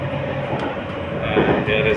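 An RER B commuter train near Paris, between Antony and Croix de Verny, gives a steady interior rumble and wheel noise that swells slightly toward the end, with faint tonal squeals over the ride.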